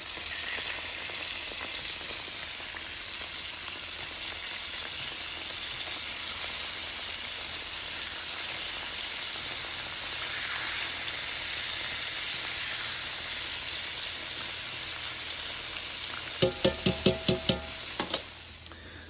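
Green tomatoes fry in a pan with a steady, close sizzle and hiss that runs throughout, broken near the end by a quick burst of sharp clatters as they are flipped.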